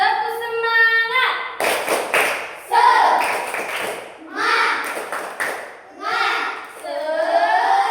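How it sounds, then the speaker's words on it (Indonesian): Classroom children doing a rhythmic 'tepuk semangat' cheer clap during a micro-teaching lesson, bursts of patterned hand claps alternating with chanting and a teacher's voice, loud and close. "Kembali kita buat tepuk semangat"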